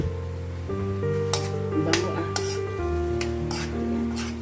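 Fried pork being stirred into sweet and sour sauce in a pan, with a steady sizzle and a few sharp utensil scrapes and clinks over background music.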